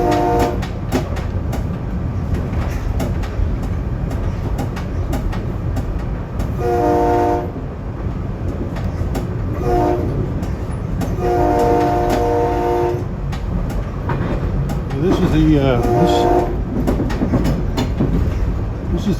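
A SEPTA Silverliner commuter train runs on the snowy Doylestown branch with a steady rumble and rolling rail noise, and its horn sounds in several blasts of varying length.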